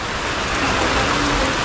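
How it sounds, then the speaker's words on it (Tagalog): Heavy rain pouring down on a run-down, flood-prone house, a dense steady hiss of water filling the whole short stretch with no break. "Lakas ng ulan."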